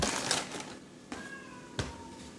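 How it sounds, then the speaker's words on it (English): A faint cat yowl rises and trails off in the distance under kitchen clatter, with a couple of sharp knocks nearby. "listen to a cat screaming in the background"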